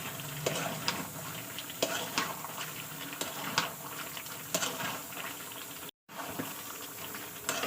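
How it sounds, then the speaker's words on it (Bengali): Meat curry with potatoes and peas being stirred and sautéed in a pan, a steady bubbling sizzle with repeated spoon scrapes and knocks against the pan, briefly cut out near the end. "তো চলুন আমরা এবার ভালো করে কষিয়ে নেবো"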